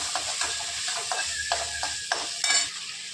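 Leftover chapati stir-fried in a pan with salt, giving a steady close sizzle with repeated scraping stirs of a spatula against the metal, a louder clatter near the end.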